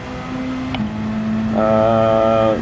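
A car engine revs in Gran Turismo 7, starting as a steady low hum and then rising into a louder, buzzy harmonic drone that holds toward the end.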